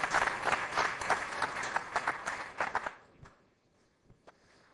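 A conference audience at a Visual Basic programming session breaks into applause, a few seconds of lively clapping that thins abruptly to a handful of scattered claps and near silence.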